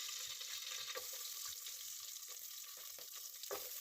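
Mustard seeds, cumin, crushed garlic and chopped onion frying in oil, giving a continuous soft hiss and sizzle with faint stirring taps now and then, quiet and close, with no voices.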